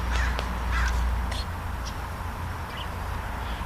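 Crows cawing outdoors near grass, several short hoarse calls at moderate distance over a low background rumble.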